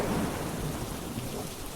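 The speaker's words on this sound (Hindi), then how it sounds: "बारिश और तेज हो गई।" Heavy rain pours down steadily with a low rumble of thunder underneath, a dense continuous hiss.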